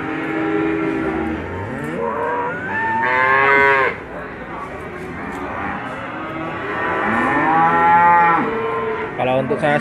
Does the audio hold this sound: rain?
no